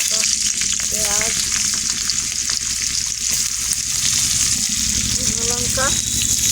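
Whole garlic cloves frying in hot oil in a wok-style pan, a loud, continuous sizzle and crackle running throughout, with a few faint chirping sounds layered over it.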